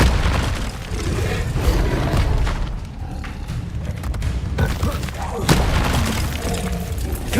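Spell explosions in Hogwarts Legacy combat: several loud booming bursts and crackling impacts over a dense rumbling game backdrop, with voices intermittently audible.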